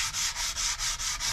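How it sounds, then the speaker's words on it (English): Veneered wooden furniture being rubbed down by hand, giving six rhythmic back-and-forth abrasive sanding strokes, loud, close and evenly paced with no talking. "so we can't rub it down too much because we take all the veneer off it"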